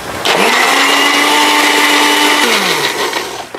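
Blender grinding galangal with turmeric powder, a loud steady motor whir that ramps up quickly, holds for about two seconds, then winds down.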